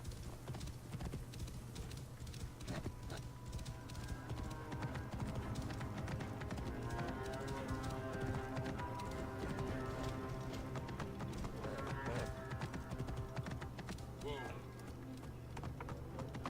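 Horse hooves clip-clopping at a steady rhythm in the video game Assassin's Creed Origins, set in the Nile Delta, under a dense bed of game music and ambience.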